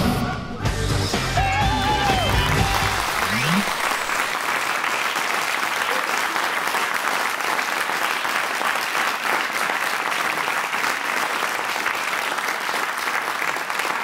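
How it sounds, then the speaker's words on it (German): A television studio audience at a German comedy show breaks into loud, sustained applause that fills the whole stretch, after a brief spoken line at the start. "Applaus!"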